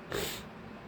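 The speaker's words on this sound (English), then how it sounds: "I gotta blow my nose. It's all stuffed up." A person blows a stuffed-up nose: one short, loud, breathy honk that fades within half a second into quiet room noise.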